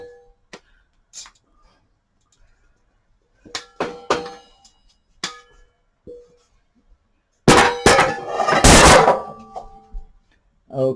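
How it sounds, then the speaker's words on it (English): A metal utensil scrapes and clanks against a pan during keto meal prep, with scattered sharp clinks and taps early on, then a loud, dense burst of scraping near the end, close to the listener. "You can see I'm scraping my pan."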